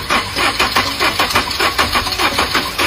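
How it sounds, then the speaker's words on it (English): Car engine cranking and turning over during a no-start fault check, a loud, rough rhythmic churning with repeated pulses throughout and no talk. "ask the owner to start the car again"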